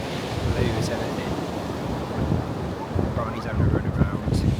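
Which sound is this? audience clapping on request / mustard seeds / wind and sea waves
wind and sea waves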